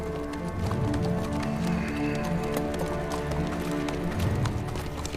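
Horses run with rapid, overlapping hoofbeats clip-clopping continuously at close range under a bed of dramatic music, with no clear speech.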